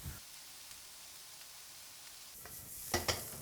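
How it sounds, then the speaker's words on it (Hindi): Vegetables for hot and sour soup stir-fry in a pan, a soft steady sizzle that runs quietly before louder clattering stirs near the end. "सो एक अच्छा स्टर फ्राई करा है हमने, इसे 2 से 3 मिनट तक पकाया इसे मैंने"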